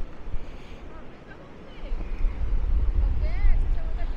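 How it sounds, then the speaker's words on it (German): Strong wind at Maspalomas on Gran Canaria buffets the microphone in low rumbling gusts that grow louder, with a voice speaking faintly beneath the roar. "Nein, mit dem Wind ist es, ich würde sagen, eher ungemütlich."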